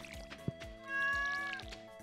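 A cat meowing in Stardew Valley, one drawn-out tonal meow over light game music with soft rhythmic thumps and a brief click.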